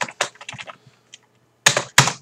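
Keys clack on a computer keyboard in two short bursts, a quick run of taps followed by a pause and then a few firmer strokes, close and clear.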